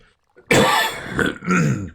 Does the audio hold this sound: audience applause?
no